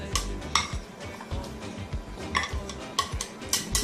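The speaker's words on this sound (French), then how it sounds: "Voilà, vous mélangez le tout." A spatula stirs pineapple into cake batter in a bowl, scraping and clinking softly with irregular strokes, close and fairly quiet with no talking.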